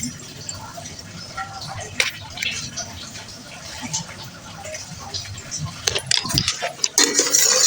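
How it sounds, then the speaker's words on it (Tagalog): Chicken being stirred in a pan with vinegar added, the spoon clinking and scraping against the metal in soft irregular taps, louder and busier toward the end, with a steady low background underneath. "dapat tuloy-tuloy lang sa paghalo hanggang sa mag-evaporate pa siya ng onte"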